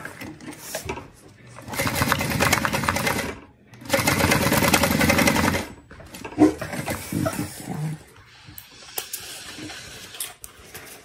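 A sewing machine topstitches around the base of a fabric bag, running in two sustained bursts of rapid whirring stitches separated by pauses, then shorter, quieter stretches, close and loud with no talking.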